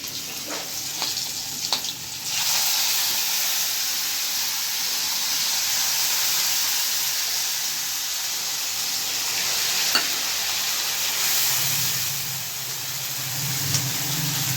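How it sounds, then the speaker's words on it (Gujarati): Garlic drops into hot oil already tempered with mustard seeds and asafoetida for a Kathiyawadi vegetable dish, with a few crackles and then a loud, steady sizzle and hiss that carries on without talk. "રાઈ મૂકી હિંગ નાખીને હવે હું આ લસણ નાખું."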